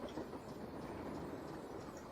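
An old train in a video game rolls along the tracks as a faint, steady low rumble that stays even throughout, with no talk over it.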